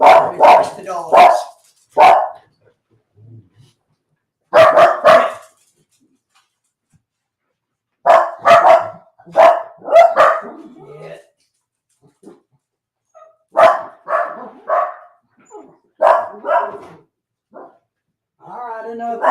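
Dogs, including a little wiener dog, bark in loud, close bursts of several quick yaps, pausing and starting again, with some talking mixed in.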